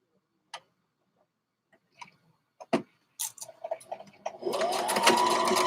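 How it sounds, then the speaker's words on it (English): A sewing machine stitches a half-inch sleeve seam from the underarm, starting with a few scattered clicks and taps before settling into a steady, close whirring run of needle strokes during the final seconds. "So we stitching the sleeve from the underarm, 1/2 inch seam allowance."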